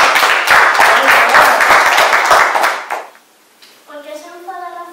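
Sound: children applauding after a story

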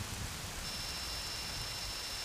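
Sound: rain falling in the video game Zelda Majora's Mask

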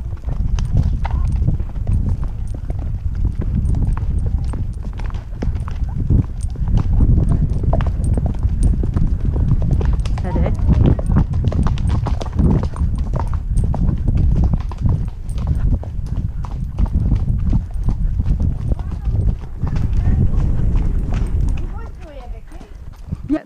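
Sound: horse hooves cantering while out hacking

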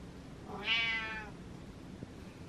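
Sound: cat meowing

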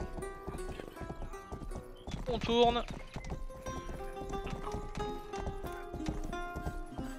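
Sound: horse hooves in video game Rustler

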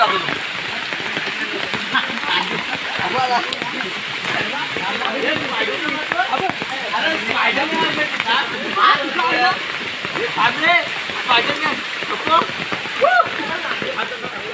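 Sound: heavy rain in a forest

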